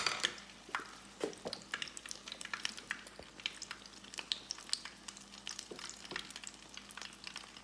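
A stuffed poblano pepper chile relleno fries in very hot oil, giving a steady, close crackling sizzle dotted with frequent sharp pops and spatters throughout, with no talking.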